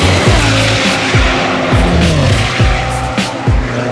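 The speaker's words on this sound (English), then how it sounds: "I've never been this close to cars going that fast" Race cars scream past on a track in quick succession, loud and close, each pass a sharp rising and falling engine note with tire squeal over a steady roar.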